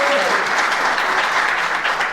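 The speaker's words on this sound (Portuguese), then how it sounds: "a gente quer visibilizar essa gratidão com uma salva de palmas" An audience claps in a steady, dense round of applause at a talk on spirituality and the meaning of life; the sound stays even and full throughout the short stretch, with no voices over it.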